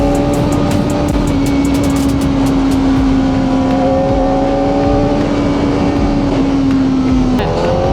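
A Kawasaki Ninja ZX-4RR 400 cc sport motorcycle engine in sport mode drones at high revs throughout, a sustained roaring whine that holds pitch and drops briefly near the end.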